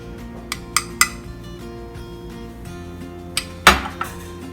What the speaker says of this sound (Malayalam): ഇനി ഇത് നന്നായിട്ടൊന്ന് മിക്സ് ചെയ്ത് കൊടുക്കാം.